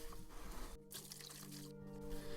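Pre-soaped water poured into a makeshift container while cleaning an old vise, a steady close liquid stream with brief gaps and a trickling finish.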